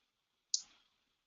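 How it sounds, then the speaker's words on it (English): A single sharp click of a computer mouse, close and crisp, with a brief decay and silence on either side. "And I can click View on Facebook."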